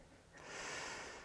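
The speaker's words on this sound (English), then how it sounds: "Take one more breath in." A single deep breath drawn in during a yoga plank, a soft breathy inhalation that swells gradually and holds, heard close and quiet with no talk.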